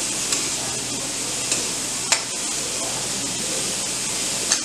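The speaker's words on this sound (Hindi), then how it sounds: "साथ ही हम इसमें कैप्सिकम डाल देंगे और इसको फिर हिला देंगे।" Capsicum frying in a pan for vegetarian bread pizza, a steady close sizzle and hiss with a few soft stirring scrapes and clicks throughout, no talking.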